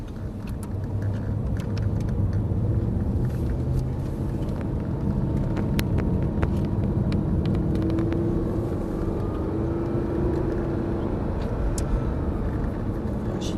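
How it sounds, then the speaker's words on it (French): An Audi R8 accelerating around the Lohéac race track, a steady close engine drone and road roar that rises gradually in pitch, with no talking over it. "Allez, on accélère gentiment, on va le doubler par la gauche."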